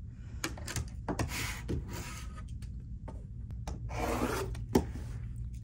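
A cutter trims fabric close by, with a dry, scratchy rasping that comes in short bursts and swells near the end.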